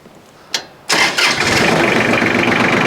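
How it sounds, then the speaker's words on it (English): A small farm tractor engine cranks with a short starter whir, catches with a sharp burst, then settles into a loud, steady idle. "I am going to start the tractor so I can barely bump this mower to where it's barely off the ground."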